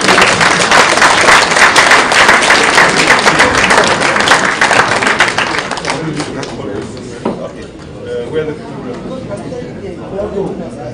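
Conference audience applauding after a closing address, dense clapping mixed with crowd chatter that fades after about six seconds into quieter murmuring.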